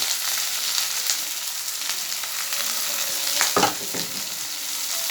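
Spiced meat filling with garlic, turmeric, chilli and cumin fries in a pan, with a continuous close sizzle and occasional stirring scrapes, one firmer scrape near the end.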